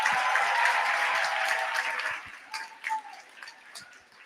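Audience applause at a school career day in Kenya, a dense wash of clapping that starts full and steady, then thins and fades over the last seconds into scattered claps.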